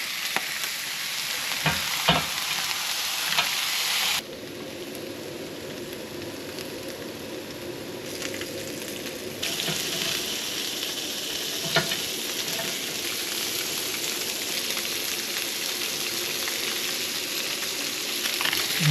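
Crayfish meat in sauce bubbles and sizzles on the shell over heat, a continuous loud frying crackle with scattered pops that shifts in intensity partway through.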